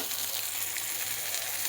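Spices frying with jackfruit curry in a pan: a dense, continuous close sizzle with steady hissing and no talking, brief and even throughout.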